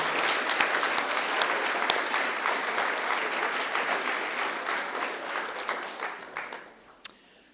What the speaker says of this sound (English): turn to one another and give yourselves a resounding round of applause because you deserve it.